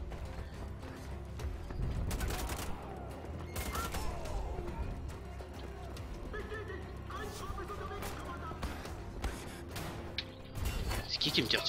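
Gunfire in Wolfenstein: The Old Blood on PC, with bursts of rapid shots and clattering mechanical noise under game sound and a voice speaking over the action.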